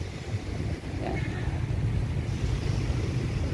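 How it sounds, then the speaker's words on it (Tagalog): Waves wash along the shore of Manila Bay, making a steady rushing wash mixed with wind buffeting the microphone, fairly faint and continuous, with no voices. "At marinig mo na ang lagaslas ng mga kaunlad ng alon, no? Sa ating Manila Bay."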